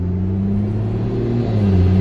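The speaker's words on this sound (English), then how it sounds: "Ooh, turbo sounds really nice too." Steady low engine rumble from a turbocharged Ford Falcon with its rear muffler removed, holding a constant note with a faint rise toward the end, heard close and without talk.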